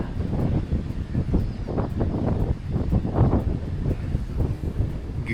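Strong, cold wind roars and buffets steadily across the microphone at a glacier-fed lake in Waterton Park, Canada, a loud, rumbling, gusty rush with no voices.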